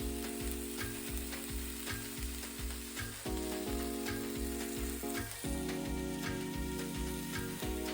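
A beef burger patty with cheddar sizzles and crackles steadily in a frying pan, close and continuous, over music with a thumping beat and sustained tones, and no talking.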